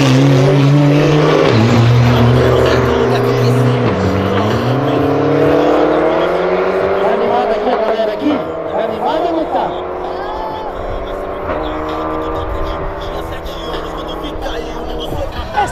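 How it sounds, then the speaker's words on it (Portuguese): Car engines roar and rev hard at a nighttime street race in Brazil, a loud, continuous close-up drone with rising and falling pitch sweeps as throttles climb, and voices faintly mixed underneath. "a gente vai gravar um pouquinho dos rachas de como é que é, porque já tá à noite"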